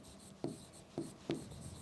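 Pen strokes writing out the name of a potassium coordination complex, three short quiet scratches spaced apart on a low background, with no talking.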